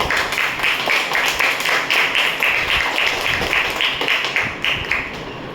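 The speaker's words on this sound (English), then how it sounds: "So please, with a huge round of applause, please welcome our division director for Division D, Toastmaster Ramanand Bhai" A crowd at a Toastmasters club meeting applauds steadily as a division director is welcomed to the stage, a dense, even clapping that holds for several seconds before thinning slightly at the end.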